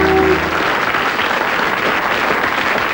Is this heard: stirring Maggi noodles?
no